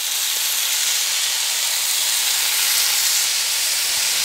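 Spiced prawns sizzle in a hot pan, laid in lines and flipped, a steady dense frying hiss filling the whole stretch at close range with no voices.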